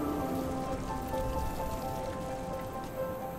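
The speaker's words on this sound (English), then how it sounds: "we thank the Lord for the rain today." Steady rain falls during an outdoor wedding, a continuous close wash of drops on wet surfaces with no talk over it.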